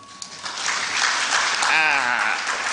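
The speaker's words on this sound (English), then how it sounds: "Okay, let's clap for him until he sits down." An audience applauds at a national wildlife corridors forum, with dense, sustained clapping that holds steady and grows slightly fuller toward the end, mixed with faint voices.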